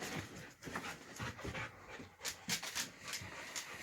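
A pet dog pants quickly and steadily at close range after a shower, with a few soft whimpers mixed into the rhythmic breathing.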